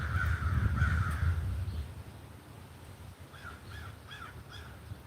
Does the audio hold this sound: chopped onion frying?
no